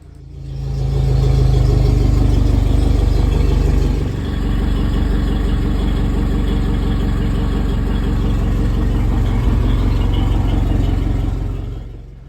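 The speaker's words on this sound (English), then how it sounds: "Let's run the engine." A Suzuki outboard engine starts up and runs at a steady idle, loud and close, with a brief dip in level a few seconds in before settling into an even drone that cuts off at the end.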